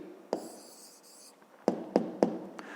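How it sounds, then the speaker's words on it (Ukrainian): A pen writes an answer on paper during a fifth-grade maths exercise, with soft scratching strokes and several sharp taps close by in a quiet room, no talking. "Ну, а зараз записуємо відповідь."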